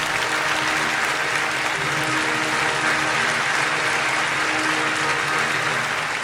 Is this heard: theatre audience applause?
yes